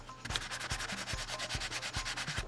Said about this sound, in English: we're gonna just sand the holes a little bit to make it smoother